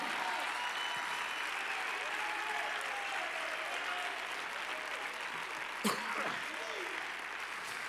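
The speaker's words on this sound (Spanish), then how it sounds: "Denle un aplauso al Señor Jesucristo" A congregation applauds during a church sermon, a steady wash of clapping from a crowd filling the space, with a brief louder knock partway through.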